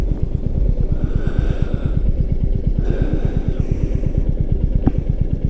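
A Royal Enfield Meteor 350 motorcycle is ridden on the road, its engine thumping in a fast, steady, evenly spaced beat, close and fairly loud from start to finish.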